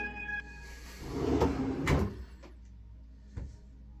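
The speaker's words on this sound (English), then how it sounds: "soft closed door." A soft-close cabinet door on a custom piece of furniture swings shut with a gentle rustling slide, a muted thud, and then a small click as the damper settles.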